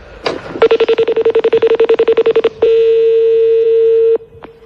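A telephone dials out with a rapid run of about twenty short, evenly spaced beeps, then a steady ringback tone holds for about a second and a half and cuts off, followed by one faint click.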